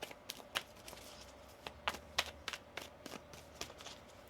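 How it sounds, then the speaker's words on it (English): Quiet riffling and snapping of tarot cards being shuffled, a run of crisp irregular clicks and flutters close by with no talking. "One more shuffle here."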